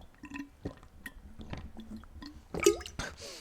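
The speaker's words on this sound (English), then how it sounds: "so hear me drink water." A person drinks water close to the mic, with wet squishy gulps and swallows in an uneven rhythm, then a louder gulp and a breathy exhale near the end.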